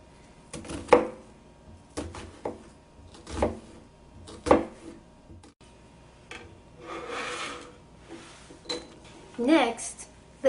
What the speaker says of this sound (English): To make the corn salsa, start by chopping the onion.